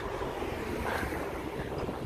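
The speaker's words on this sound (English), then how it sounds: "It's very windy as you can tell" Steady, roaring wind buffets the microphone throughout, a dense low rumble with no voices.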